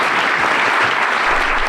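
An audience applauds at the close of a talk before autographs, a dense, steady wash of clapping from many hands filling the room evenly for the whole stretch.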